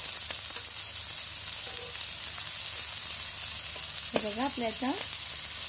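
Chicken frying on a clay roof tile over a high flame gives a steady, loud sizzle that runs throughout, with a brief spoken phrase near the end over the hiss.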